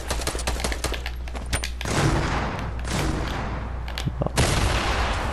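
Gunfire in the Fortnite video game: a dense, continuous barrage of rapid shots and blasts, loud and close, with heavier bursts in the middle and again near the end.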